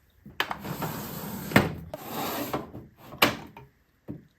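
Wooden makeup storage drawer being pulled open, a close sliding rub with scraping wood friction and a few sharp knocks or clunks as it moves and stops, no talk.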